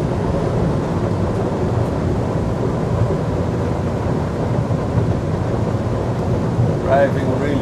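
An Axopar 37 XC motorboat (2020 model) runs and turns at speed, producing a loud continuous roar of engine, hull and wind rumble, steady throughout and close to the microphone.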